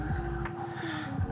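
A cold-braked 2025 Ducati Panigale V2 motorcycle lets out a steady, thin brake whistle that holds throughout, riding over a deep, pulsing engine rumble.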